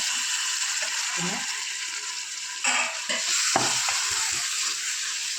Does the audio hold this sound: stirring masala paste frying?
yes